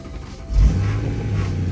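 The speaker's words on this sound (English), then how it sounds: "So let's start the car just to see how she's running." A BMW E92 M3 engine cranks and catches after a module repair, a low rumble swelling suddenly then settling into a steady, close idle with no talk.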